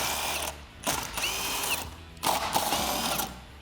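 Ratchet wrench undoing spare tire lug nuts on a Jeep Wrangler JL, using a key on six-spline nuts: two bursts of rapid mechanical clicking separated by brief pauses, close and clear.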